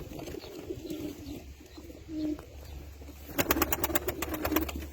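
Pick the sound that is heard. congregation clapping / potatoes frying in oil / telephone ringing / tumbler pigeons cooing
tumbler pigeons cooing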